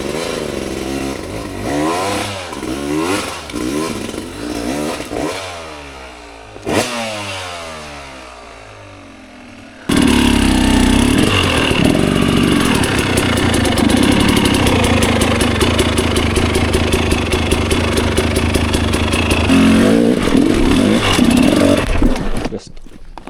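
Dirt bike on a rocky trail, its engine idling and revving unevenly as it tries to climb a rock slab, then holding a loud, steady, strained drone for over ten seconds before cutting off.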